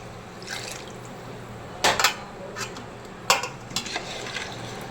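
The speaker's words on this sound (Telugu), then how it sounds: "నాలుగు లోటాలు నీళ్ళు పోసుకుంటాను." Water poured from a pot into rice for a chicken biryani, heard as a few short splashing bursts with a steady low kitchen hum between them and no talking.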